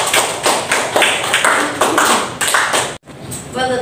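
Classroom applause for a student, loud uneven bursts of clapping and tapping that stop abruptly near the end.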